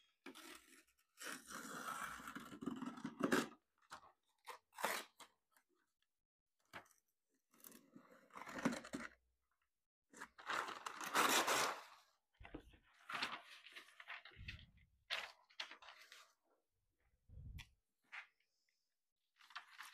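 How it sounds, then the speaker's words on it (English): Scissors cut a paper dragon-wing template in short, intermittent snipping and crunching bursts, close and fairly quiet, with pauses between the cuts. "I think I'm going to use scissors. You can cut the shape of the wings that you'd like"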